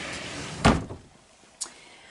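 A door in a home sewing room, one fairly loud thud as it closes followed by a quieter knock a second later, in a quiet room with no talking.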